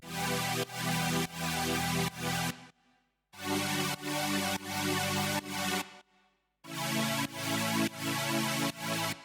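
A bright, wide supersaw synth chord made in Ableton Analog stabs in repeated rhythmic bursts, full and buzzy, with short silent gaps between phrases and no voices.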